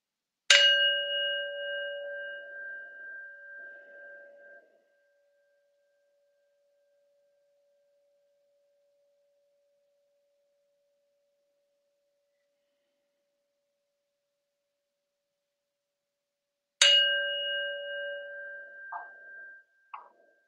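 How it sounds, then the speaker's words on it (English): A meditation bell is struck twice at the close of a practice, about sixteen seconds apart. Each strike is a clear, bright ring that slowly fades into silence. "And we'll close our practice with 2 sounds of the bell."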